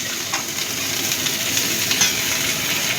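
Chicken pieces with garlic and green chilli stalks fry in butter in a pan, giving a steady, close sizzle with bright crackling and occasional small pops that runs unbroken throughout.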